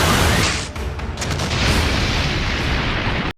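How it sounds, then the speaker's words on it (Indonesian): A huge explosion from an anime dragon battle in Fairy Tail roars as a sustained, loud, rumbling blast with crackling bursts layered through it, cutting off abruptly at the end. "Balik lagi pada Ignel yang masih beradu kekuatan dengan Agnologia sampai membuat ledakan yang sangat besar."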